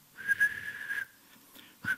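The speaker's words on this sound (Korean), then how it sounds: "휘파람 소리를 냅니다." A person whistles a short, bright tune: a steady held note lasting about a second, a pause, then a brief final note, close and clear against a quiet background with no talking.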